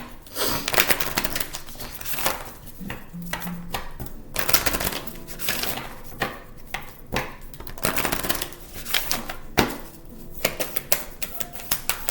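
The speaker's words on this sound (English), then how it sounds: "I'm going to shuffle them up real good." Tarot cards being shuffled steadily for about twelve seconds, a dense run of quick papery riffles and slaps with brief pauses, close and fairly loud with no talking.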